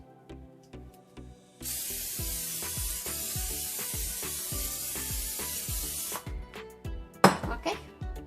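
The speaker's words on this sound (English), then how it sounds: "We're gonna spray some more olive oil on top of it." Olive oil sprayed from a spray bottle over seasoned okra (bhindi) coated in masala before air frying: a steady hissing burst of a few seconds, close and fairly loud, with tapping kitchen sounds before and after.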